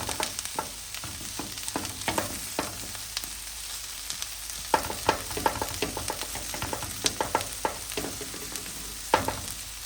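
Spicy pork fajitas with cilantro frying in a pan over an off-grid cabin stove, giving a steady close sizzle broken by frequent sharp clicks and taps of stirring.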